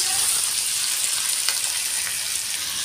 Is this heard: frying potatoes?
yes